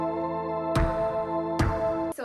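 A flute run through guitar effects pedals holds a bright, stacked tone with rhythmic bursty attacks about once every 0.8 seconds, loud and close, with no voices.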